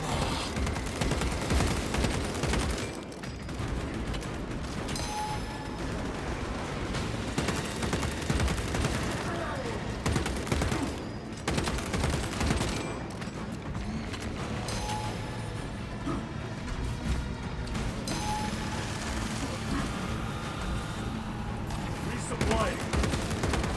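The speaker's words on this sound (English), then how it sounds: "Concentrate fire on the Neurothrope." Dense, continuous gunfire and bursts of automatic weapons fire from the Warhammer 40000: Space Marine 2 video game, loud and sustained throughout with battle noise layered on top.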